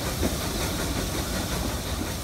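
A Franck-system type 020 fireless steam tram locomotive gives off a continuous, steady hiss of steam with a low mechanical rumble, dense and unbroken throughout.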